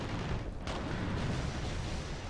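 Continuous loud rumbling battle noise from gunfire against an armored vehicle in the video game Warhammer 40,000: Eternal Crusade, a dense roaring wash with a brief sharp burst near the start.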